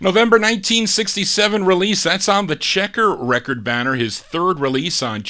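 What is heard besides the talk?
No distinct noise like a dog, phone or traffic.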